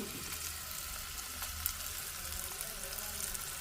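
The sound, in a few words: tempering spices and garlic frying in pan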